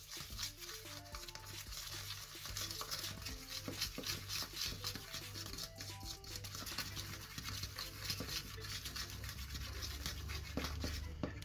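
Soft, steady squelching and patting as slime made from soap and powdered sugar is stirred and worked by hand, a continuous close wet texture with no voices.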